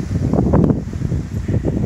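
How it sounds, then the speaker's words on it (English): Gusty wind outdoors in Australia rushes and rumbles against the microphone, swelling and easing in low buffeting waves with no talking. "it's getting rather windy as well"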